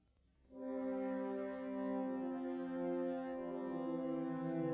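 A horn section part, added as an overdubbed track in a Mixcraft mix, plays back alone as sustained, steady brass chords that enter after a brief quiet moment and hold at moderate volume.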